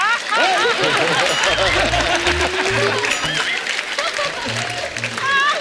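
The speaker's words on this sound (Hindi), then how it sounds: "जोरदार तालियां हो जाए अक्षय कुमार जी के लिए" Studio audience applauding for actor Akshay Kumar on a Hindi comedy talk show, a dense, steady wash of clapping lasting several seconds with light laughter and voices mixed in.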